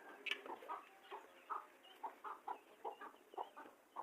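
A hen clucks near a peacock in a backyard pet enclosure in summer, giving a steady series of short, moderately close clucks at roughly half-second intervals, with no talking.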